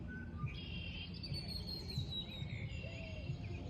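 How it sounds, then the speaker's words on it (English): Birds chirp and tweet outdoors, several high, thin calls scattered over a steady soft background hum. "Listen to the birds."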